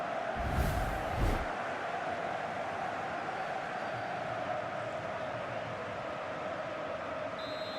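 Stadium crowd noise in FIFA 17 after a goal, a steady broad roar and murmur with a brief louder swell near the start, then a constant buzz.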